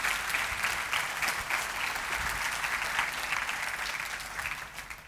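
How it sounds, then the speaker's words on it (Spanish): A church congregation applauding throughout, a steady, dense wash of many hands clapping at moderate distance with no voices standing out. "Dele ese aplauso al rey."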